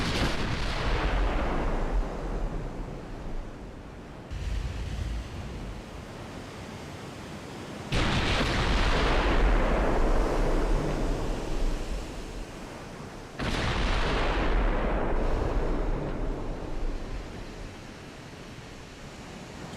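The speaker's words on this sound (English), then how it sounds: "Secondary's firing at the destroyer." Warship secondary guns fire at a destroyer in the naval game Ultimate Admiral Dreadnoughts, three heavy booming salvos with long rumbling decays, spaced about five seconds apart over a constant sea-and-wind roar, and no voices.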